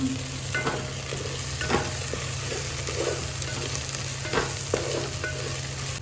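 Chili powder and garam masala being stirred into a frying egg curry, a steady close sizzle with intermittent scraping strokes over a constant low hum, no talking.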